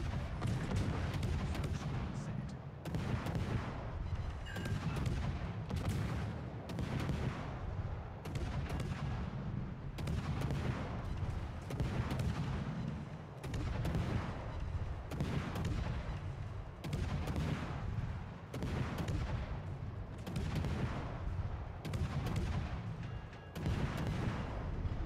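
Warship guns firing in World of Warships: Legends: repeated heavy booming salvos at an irregular rhythm, a deep rumble interrupted by sharp blasts throughout, loud and close with no talk.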